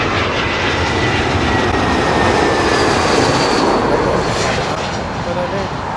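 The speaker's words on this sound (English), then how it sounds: "British Airways A319 coming in from Nice" A British Airways Airbus A319 arriving from Nice on its landing approach at London Heathrow, a loud steady jet roar that holds throughout and eases slightly at the end.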